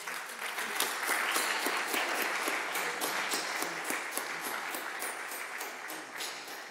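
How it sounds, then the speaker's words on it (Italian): A lecture audience at a philosophy conference applauds in a dense, sustained wash of clapping that holds steady and tapers slightly toward the end, with no talking over it. "merita questo e altri applausi"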